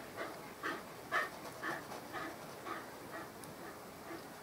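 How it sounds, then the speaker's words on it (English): A dog pants in quick, rhythmic breaths close by, steady huffs repeating for several seconds with no talking. "That's my dog you're hearing."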